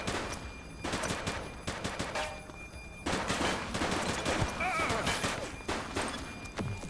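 Repeated bursts of gunfire in the police game The Precinct, sharp rapid shots in clusters with short gaps between volleys, fairly close and loud, with a voice speaking in between.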